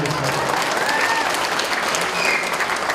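On a passenger train, a recorded applause-like signal plays while passing through the vestibule: a dense, continuous crackle of clapping, loud and close, steady throughout.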